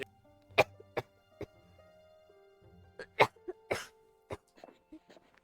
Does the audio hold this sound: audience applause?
no